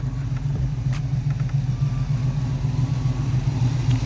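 An Oldsmobile Cutlass engine idles under the open hood, a steady low rumbling drone that stays even throughout, close by and fairly loud, with no voices.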